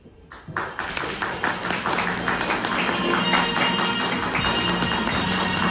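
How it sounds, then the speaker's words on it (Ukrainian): An audience at a preschool farewell celebration applauds as young children come on stage, dense continuous clapping that builds quickly and holds steady, with light music tones underneath. "гучними оплесками зустрічайте юних зірок"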